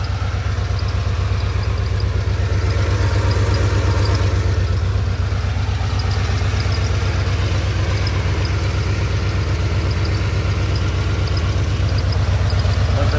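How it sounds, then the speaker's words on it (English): A 1969 Porsche 911T engine idles steadily and loudly up close, a continuous even rumble with a faint high squeak from a loose belt woven through it. "The engine sounds good, idles well."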